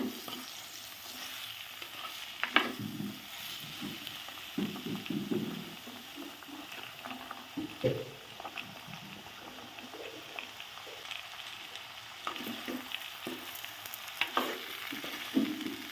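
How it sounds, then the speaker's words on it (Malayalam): Vegetables for Trivandrum-style aviyal being sautéed in a pan, giving a steady close sizzle broken by repeated scraping and stirring knocks, with no talk. "ഇതൊന്ന് വാടുന്നത് പോലെ നമുക്കൊന്ന് വഴറ്റാം"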